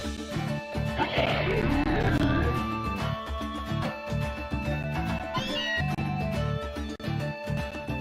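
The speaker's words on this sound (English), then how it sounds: "A Meowth." A Meowth cry in the Pokémon Moon video game, a short synthesized meow-like call that rises and falls, heard over steady game background music with a few electronic effects.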